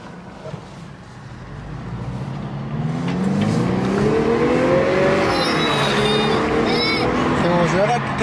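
A turbocharged Lexus car accelerates hard, its engine note climbing steadily and rising in pitch from close by, with voices talking over it.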